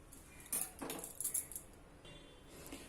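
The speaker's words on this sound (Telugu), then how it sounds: "ఫస్ట్ వంకాయని ఇలా మధ్యలో కట్ చేసుకోవాలి." A knife slices an eggplant lengthwise down the middle for eggplant bajji, giving a few close, quiet clicks and scrapes as the blade meets the board, with soft handling noise in between.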